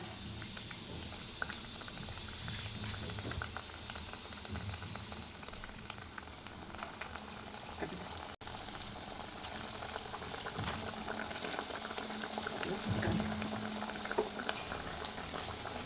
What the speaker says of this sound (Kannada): ಎಣ್ಣೆ ಕಾದಿದೆ, ಒಂದೊಂದಾಗಿ ಬಿಡೋಣ.